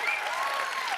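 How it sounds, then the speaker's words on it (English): Cheering and applause from an E3 2019 panel audience, a dense wash of clapping with a high whoop or two, close and loud throughout the brief moment. "Everybody, cheer if you want Jack Black to play the game."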